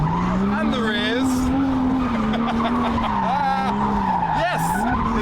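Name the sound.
drift car warming up tyres, skidding and tyre squeal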